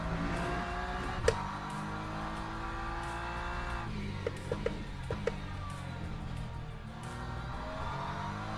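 A Ferrari race car engine in the video game Le Mans Ultimate holds a steady, droning high-revving note, with brief tyre squeals and gear-change blips over the continuous tone.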